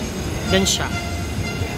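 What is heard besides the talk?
LRT light rail train running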